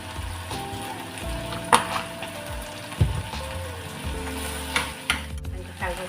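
Okra fries in a pan with turmeric and chili powder, a loud, close crackling sizzle with repeated stirring scrapes and knocks throughout.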